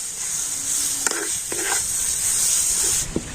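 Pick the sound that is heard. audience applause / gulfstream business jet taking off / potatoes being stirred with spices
potatoes being stirred with spices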